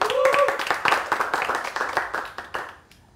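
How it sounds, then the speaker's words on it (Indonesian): Audience clapping for a performer at a stand-up open mic show in Maluku, brisk scattered claps that fade out over about three seconds, with a voice or tone briefly heard at the start. "Tepuk tangan dong untuk Eral."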